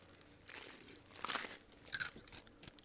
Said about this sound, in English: Oh, does it sound like I'm crunching? It was ice.